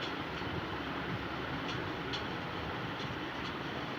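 Train rumbling steadily past near a railway station, a continuous close clattering roar with no pauses.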